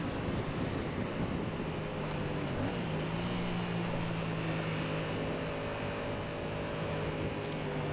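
Yamaha MT-07 motorcycle with its stock exhaust cruising on a highway, a steady droning engine tone under heavy rushing wind, holding constant with a slight pitch shift partway through.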